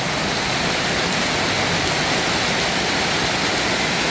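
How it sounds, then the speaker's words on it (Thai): Heavy rain pouring steadily on an orchard at dusk, a dense, constant hiss with no pauses or voices, close and loud throughout. "เปียกหมดเลยนะคะฝนตก"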